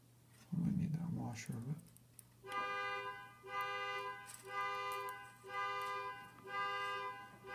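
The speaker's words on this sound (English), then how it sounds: "Neighbor's car alarm." A neighbor's car alarm sounds at a distance in repeated pulsing bursts of a harmonic electronic tone, each lasting under a second with short gaps. It follows a brief louder knock and some low talk.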